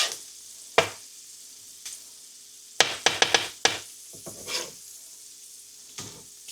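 Ribeye and onions fry in butter with rendered beef tallow, a close, steady sizzle broken by several sharp spatula clanks and scrapes against the pan, a quick cluster of them in the middle, with no voices.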